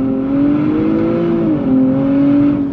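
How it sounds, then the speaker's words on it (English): A 2023 Nissan Z performs a launch-control start, its engine holding a loud, steady drone that dips briefly, then climbs again as it pulls hard, heard close with no talking. "launch control, it's real simple. Left foot on the brake,"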